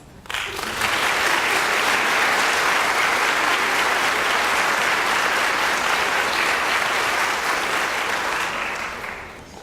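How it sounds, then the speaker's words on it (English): A large crowd at a school district Teacher of the Year awards ceremony applauds steadily for several seconds, loud and dense clapping that fades slightly at the end. "let's give them all a round of applause"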